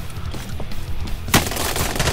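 Gunfire in the Call of Duty video game, with a sharp loud shot burst near the middle over a busy game background of low rumble and scattered bangs.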